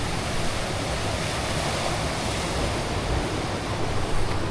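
Big ocean waves break and wash continuously on the beach at Sabang, a dense, steady roar of surf close by with no talking.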